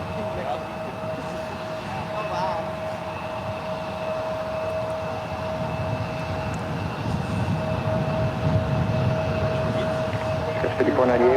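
A jet taking off from runway 1 right at SFO airport produces a broad, distant engine roar that swells gradually, with a steady tone and people talking over it.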